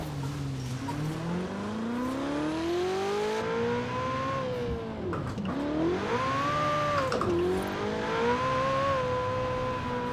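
A Ferrari 488 Pista in Forza Horizon 4 with a turbocharged engine and turbo whine revs up and down through gears, its pitch climbing, dipping and climbing again, loud and continuous.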